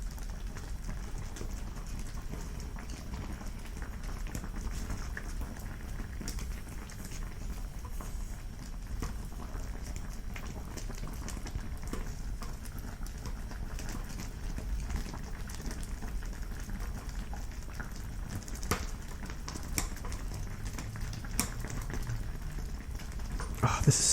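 Spicy ramen and tteokbokki bubble and simmer in a pot while being stirred, giving a steady, soft, continuous boiling patter with faint scraping and no talking.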